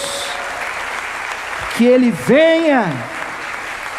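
A church congregation keeps up a steady wash of applause beneath a preacher's voice, which rises briefly in the middle.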